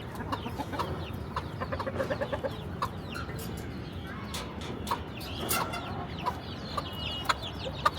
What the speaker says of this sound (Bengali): কালো মুরগি, আর কি সুন্দর দেখেন বসে আছে